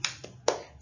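A class of children doing the tepuk semangat clapping chant, heard as two or three short, sharp hand claps spaced apart, moderately close, with no talking over them.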